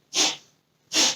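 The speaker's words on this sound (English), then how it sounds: "My cat's been sneezing a lot lately." Cat sneezing twice, about a second apart, two short, sharp, breathy bursts recorded close up in a quiet room.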